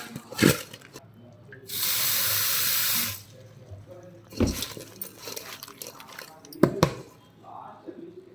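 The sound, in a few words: water added to cut bitter gourd pieces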